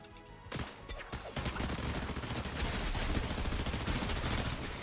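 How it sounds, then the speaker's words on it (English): Rapid bursts of gunfire crackle continuously in a Fortnite match, a dense volley of shots that stays loud and steady throughout. "Gunshots behind us? That was me."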